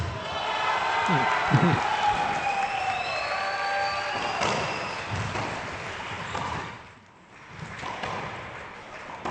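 A crowd at a racquetball semifinal in Tampa claps and cheers after a point, a sustained swell of applause with a few sharp ball and court sounds, easing briefly near the end before rising again.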